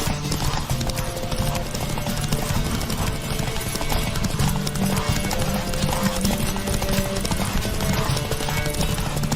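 Horse galloping in The Witcher 3 video game, rapid steady hoofbeats pounding continuously under wind rush and ambient game sound, with a brief whinny.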